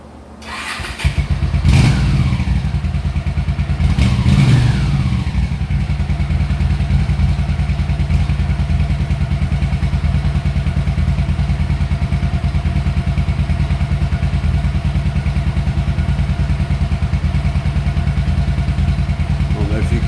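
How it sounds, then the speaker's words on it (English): A carbureted motorcycle with the choke on is started, then settles into a steady, loud, rich-running idle that drones on close by. Two sharp thumps sound near the start. "All right, I'm going to walk around and start the bike. The choke is on, so it's going to be running very rich."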